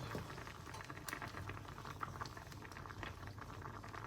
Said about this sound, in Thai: แกงคั่วก็เริ่มเดือดแล้วนะคะ